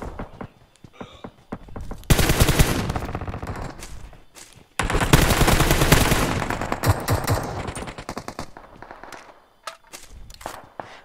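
M4 rifle fire in a video game comes in two long, loud, rapid automatic bursts, followed by scattered single shots and clicks, with sparse quieter sounds between the bursts.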